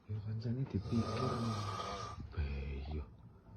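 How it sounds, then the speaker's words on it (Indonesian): A person snoring nearby, with rough rhythmic breaths repeating through the moment and no talk. "Loro-loro ning ngorok."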